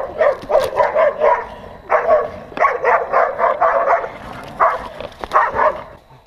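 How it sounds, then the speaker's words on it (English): A dog barks repeatedly in quick bursts of bow-wow barks with short pauses between, fairly close and loud, with no talking. "There is a dog."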